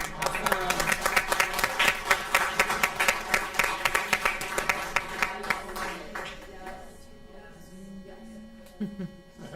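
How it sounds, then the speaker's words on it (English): A round of applause at a school board meeting, steady close clapping from the room for about six seconds that then fades into quiet room hum with a few stray claps and murmurs. "let's give one more round of applause."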